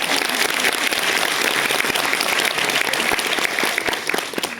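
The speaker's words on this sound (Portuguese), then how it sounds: "Salva de palmas" Audience applause at a health-sector talk featuring Dr. Drauzio, a dense, steady roar of many hands clapping that holds loud and even throughout before easing slightly at the end.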